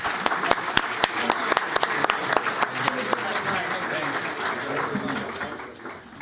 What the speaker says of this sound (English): how about another round of applause for our excellent panel